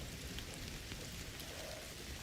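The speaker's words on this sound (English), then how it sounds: "Don't you love rain?" Steady rainfall in the Indiana Jones and the Great Circle video game, a dense continuous hiss of drops at low level with no other sounds.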